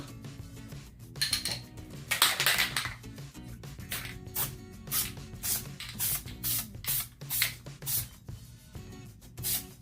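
Several short bursts of high-tack mist adhesive sprayed from an aerosol can while framing a diamond painting, a quick hissing rhythm of close puffs with light clinks between them.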